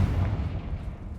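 A Confringo blasting curse erupting in Hogwarts Legacy, a brief deep rumbling explosion heard close and loud, filling the moment without any voices.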